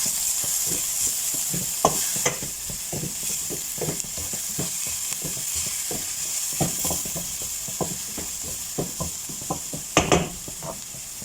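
A spoon stirs tuna pasta sauce seasoned with cumin, coriander and pepper in a frying pan, giving steady repeated scrapes and knocks over a continuous sizzle, close and alone.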